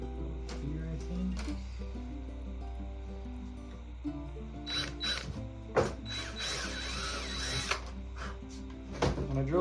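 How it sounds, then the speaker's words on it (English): Drill boring holes through a wooden board for taxidermy wire, with intermittent mechanical whirring and clicking bursts, moderately loud and close, separated by quieter handling pauses. "When I drill these holes, I drill them right through the board"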